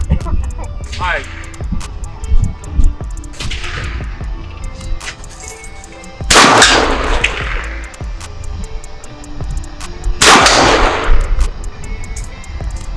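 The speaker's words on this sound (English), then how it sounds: "Okay, so I'm gonna shoot 2 more." Loud gunshots from a Micro Draco pistol fired outdoors, several sharp cracks spaced a few seconds apart, the biggest two with long booming tails, while people talk and react in between.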